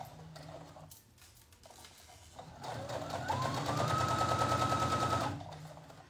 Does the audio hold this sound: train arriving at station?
no